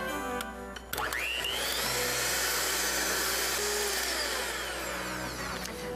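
An electric hand mixer beats pumpkin chocolate chip cookie dough in a bowl, a loud steady whir that starts abruptly after a brief clatter and runs evenly for several seconds.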